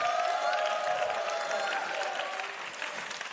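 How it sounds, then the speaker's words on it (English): Congregation clapping during a church Bible study gathering, a fairly soft, steady wash of applause with faint crowd noise that slowly fades. "Let's give a clap to them."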